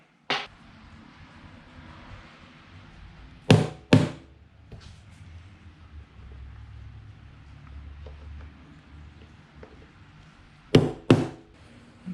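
Sharp knocks ring out from a fiberglass subwoofer enclosure for an Infiniti Q50 as a piece is knocked out: a single hit, then a close pair, and later another pair of loud, near strikes over a low background rumble.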